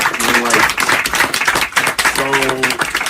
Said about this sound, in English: So just another round of applause, please,